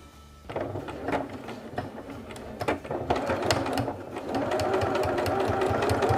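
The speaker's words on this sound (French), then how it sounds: "Oui, parce qu'on est en surpiqûre, mais par contre, n'oubliez pas de faire un bon point d'arrêt au début et à la fin." A sewing machine topstitches with a 4 mm stitch, the motor starting after a brief pause and running in short bursts before settling into a steady, close whirring and clatter.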